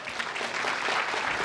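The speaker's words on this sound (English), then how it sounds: "While Nahla and Liz make their way to the stage to our applause" Audience at a free speech event applauding as two speakers walk to the stage, dense steady clapping filling the short moment without talk.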